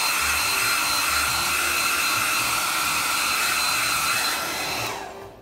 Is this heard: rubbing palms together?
no